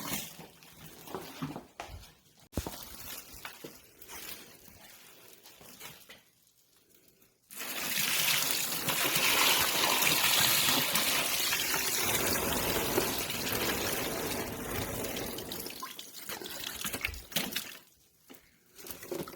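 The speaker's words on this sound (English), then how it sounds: "Now we're going to pour the brine into the bag." Liquid turkey brine gushes steadily from a container into a brining bag set inside a cooler, a loud continuous pour lasting several seconds, preceded and followed by quieter handling sounds.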